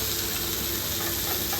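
Fish grilling Kerala style in a non-stick pan, with a dense, even sizzle throughout, close and steady, with no one talking.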